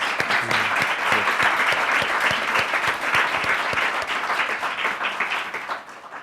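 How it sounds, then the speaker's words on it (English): A big round of applause for a discussion panel at a higher-education event, steady and full from a large audience, fading slightly toward the end. "Can we just give our panel a big round of applause?"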